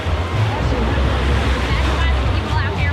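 Waves crash and churn in the Typhoon Lagoon wave pool at a waterpark, a steady loud surf wash with crowd babble and wind noise mixed in.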